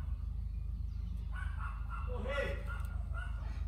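A dog barks and yips at the mail carrier arriving next door, faint and somewhat distant, with a person talking close by over it.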